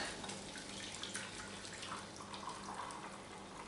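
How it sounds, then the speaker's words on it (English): Purple red cabbage liquid pours through a strainer into a jug, giving a soft, continuous trickle and splash like running water, quiet and close, with no talking. "you can take the lid off and strain it into your jug"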